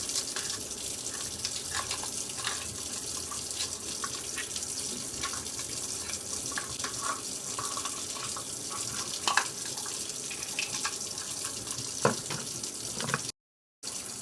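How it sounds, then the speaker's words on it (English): Warm water runs steadily from a tap into a mixing bowl for sourdough bread dough, a continuous close splashing stream with small spatters and drips, with no voices. "1 1/3 cup of warm water into our bowl"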